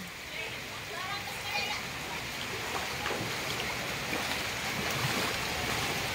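Floodwater sloshing and churning steadily close by inside a house, a continuous wet wash with no pauses.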